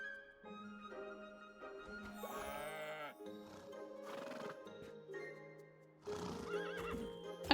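Horses on a Starsand Island farm whinny repeatedly in high, wavering neighs, with light clip-clopping hooves and farm ambience underneath, moderately close.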